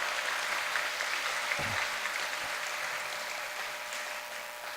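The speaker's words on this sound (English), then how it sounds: "let's give a round of applause to C&T Catering" Chamber of Commerce awards banquet crowd applauds the caterers, a sustained, fairly distant round of clapping that slowly fades toward the end.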